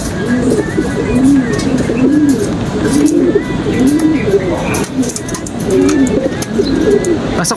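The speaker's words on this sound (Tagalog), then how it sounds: "nagsama-sama na nga ang ating mga ibon" Homing pigeons returning from a training flight in Guimba, Nueva Ecija, coo in repeated low rolling calls, close and steady over a busy outdoor background, with no clear flapping standing out.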